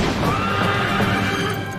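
Horses whinny and neigh loudly and continuously while hooves clip-clop beneath, a dense, close herd sound with no voices.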